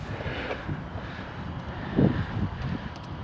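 An Arrma RC car drives across grass with a steady, buzzing motor whine and rough churning. A brief louder surge comes midway, and no one speaks.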